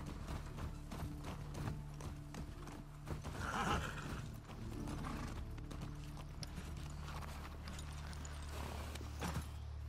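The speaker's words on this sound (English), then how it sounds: "Well, we got some horses." Horses in The Last of Us Part II, steady hoof clip-clops continuing throughout, with a whinny in the middle, set against a constant ambient game background hum.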